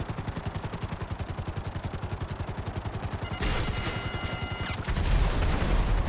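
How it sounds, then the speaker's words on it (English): Rapid automatic gunfire in the video game GTA Online, a steady rattling burst running throughout, joined partway by heavier booming shots and a brief metallic ringing. "That's some good shooting."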